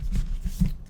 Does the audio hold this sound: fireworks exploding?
no